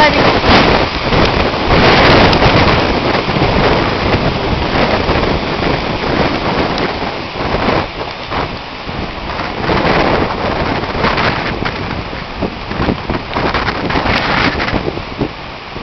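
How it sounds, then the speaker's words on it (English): Gusty wind buffets the microphone amid rain during an August thunderstorm, a loud continuous roar outdoors with voices talking in the background. "Look at that wind picking up."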